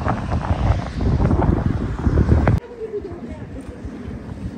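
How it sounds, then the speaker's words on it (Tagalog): Strong cold wind in the UK buffets the microphone in loud rumbling gusts, then abruptly drops to a softer blustery roar. "ang lakas ng hangin"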